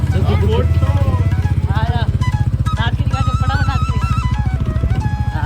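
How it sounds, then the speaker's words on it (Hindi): A Royal Enfield Goan Classic 350 motorcycle engine idles nearby with a deep, rapid thumping pulse, while people talk over it throughout. "अगर मैं आपको इस बाइक की आवाज़ सुनाऊं"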